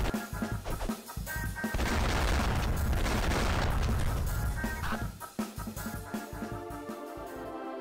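Gunfire in the video game Madness Hydraulic, a dense continuous barrage of shots and booms layered over game music, loud and sustained throughout with no pauses.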